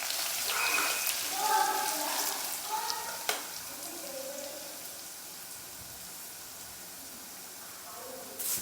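Crushed ginger, garlic and three green chillies fry in hot oil in a pan, giving a continuous close sizzle and crackle while a voice talks over it.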